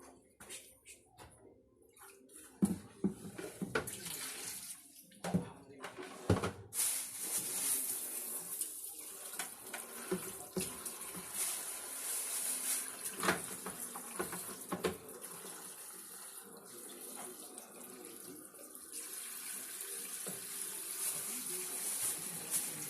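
Tap water runs steadily while lobsters are washed in a sink for a seafood dinner, giving a continuous splashing rush with irregular knocks and handling clatter, some louder early on.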